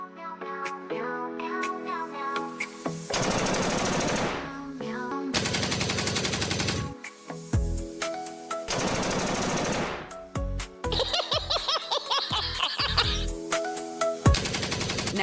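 Bursts of machine gun fire in a comedy skit come in several loud, rapid rattling volleys of a few seconds each, with sharp single shots and musical tones between them.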